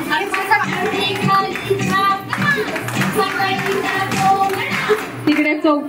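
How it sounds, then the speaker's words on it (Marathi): Guests clap in rhythm at a Mangalagaur celebration while a bride plays fugdi, the steady hand claps mixed with loud women's and children's voices and chatter throughout. "सगळ्यांनी टाळ्या वाजवा."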